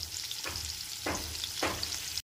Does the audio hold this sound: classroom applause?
no